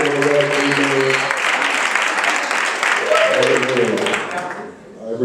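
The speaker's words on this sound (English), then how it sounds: "Would you clap your hands for my wife?" A church congregation claps and cheers for the pastor's wife during a Friday night service, a dense sustained wash of applause with voices and a sung or called phrase over it, tapering off near the end.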